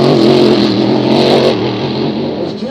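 A race car roars loudly down the front straightaway of a 2012 Grand Prix final, its engine note strong and steady before easing slightly as it passes, with no voices over it.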